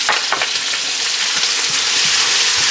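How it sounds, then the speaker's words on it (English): Onions fry in a pan just used for searing meat, giving a loud, continuous, close sizzle with soft stirring movements underneath and no talking. "now we're just cooking down some onions"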